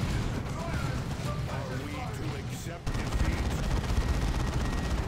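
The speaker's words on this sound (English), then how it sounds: "just laying down the gunfire" Rapid, dense gunfire rattles continuously with a roar of battle noise in a Dawn of War 2 match, a brief dip near the middle before the barrage resumes even louder.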